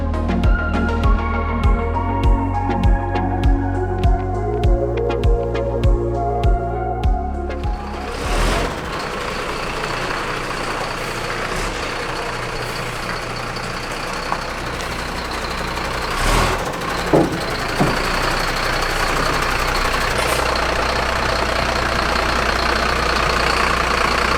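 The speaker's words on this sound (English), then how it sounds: "No, don't turn the forklift off. Keep the forklift going." A forklift engine runs near a car transporter, starting with a rhythmic series of reversing beeps over the motor, then settling into a steady rumbling idle with occasional clanks.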